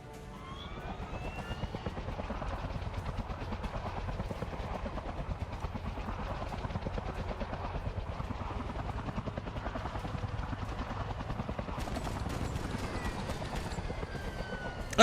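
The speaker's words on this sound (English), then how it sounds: "because there goes the helicopter." A helicopter in the video game Front Mission 3 gives a steady rapid rotor chop that stays continuous and fairly loud throughout, with a few sharper bursts near the end.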